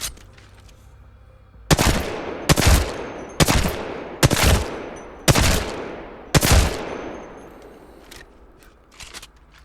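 An R-301 rifle in Apex Legends fires six sharp, loud bursts, each a crisp crack with a short decaying tail, spaced roughly evenly about a second apart with quiet gaps between.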